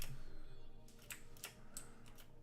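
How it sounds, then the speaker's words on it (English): A few faint, sparse keystrokes clack on a gaming keyboard over a quiet electronic hum, spaced irregularly. "Let me use my gaming keyboard."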